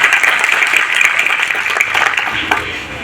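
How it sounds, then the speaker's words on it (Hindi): Audience applause at a women's self-defence training session, a dense, steady burst of many hands clapping together for about three seconds, loud and close with no break. "बजाओ ताली एक बार।"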